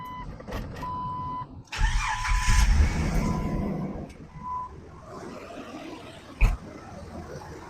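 A 2000 Jeep TJ engine, just serviced with a new water pump and refilled coolant, cranks and catches, then settles into a steady idle, alongside beeps and a sharp clunk nearby.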